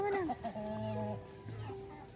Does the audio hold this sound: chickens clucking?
yes